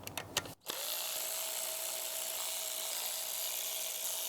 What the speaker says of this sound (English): So I'm just going to bust out these bolts.